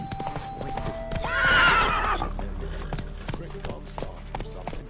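A horse in The Witcher video game gives a loud whinny while its hooves keep up a steady clip-clop throughout, with a faint game score underneath.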